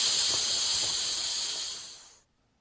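Air rushes out of the valve of a Polish Army sleeping mat in a close, loud, steady hiss that fades and stops abruptly about two seconds in.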